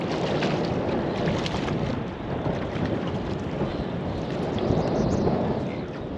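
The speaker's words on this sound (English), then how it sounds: "Wind's going about 40 k's an hour from the west." A strong, freezing west wind of about 40 km/h gusts by a river, buffeting the microphone with a dense, continuous roar that swells and eases slightly, loud and close, without speech.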